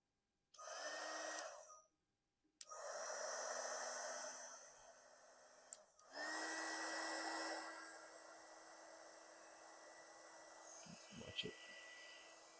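A hot air blower heats an IV bag refill fitting, giving close, steady whooshing bursts that switch on and off three times, the last run fading to a lower hum.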